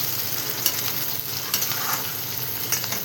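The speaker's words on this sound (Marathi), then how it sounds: "आणि हे टाकल्याच्या नंतर आपण मस्त असं परतून घेऊया" Chilies, garlic and tomato sizzle with onion in a hot pan, a steady close crackle broken by a few sharp stirring clinks and scrapes, with no talking.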